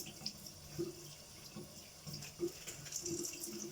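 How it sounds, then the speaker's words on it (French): Hot water flows from a tap into a sink, a faint, steady trickle with small splashes close by and nobody talking. "je vais essayer avec de l'eau un peu plus chaude"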